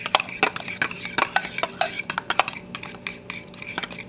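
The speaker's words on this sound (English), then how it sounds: "stir it up real good" Krusteaz waffle batter being stirred in a bowl, an irregular run of sharp clinks and scrapes as the utensil knocks the sides, close and fairly quiet with no talking.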